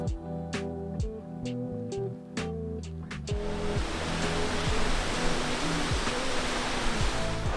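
A Yosemite waterfall roaring below a viewing platform, a loud steady wash of falling water that swells in after a few seconds of other sound.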